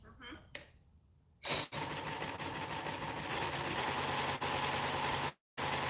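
A Reliable industrial sewing machine runs a straight stitch in a fast, even mechanical chatter after a few quiet handling sounds, stopping briefly near the end and then starting again.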